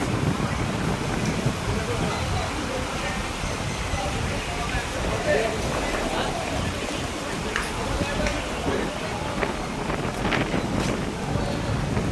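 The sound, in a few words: wind blowing in park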